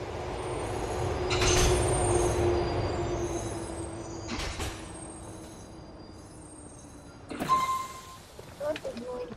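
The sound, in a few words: train arriving at station in video game GTA 4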